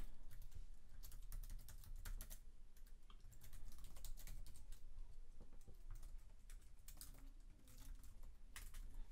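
Rapid typing on a computer keyboard, a steady run of close, crisp key clicks with short pauses, entering a password during a local WordPress setup; no one speaks.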